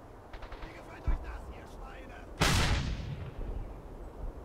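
A cannon fires in the World War II shooter Brothers In Arms: Hell's Highway. A loud, close blast rolls off into a long rumbling decay after earlier faint gunfire and a smaller thud.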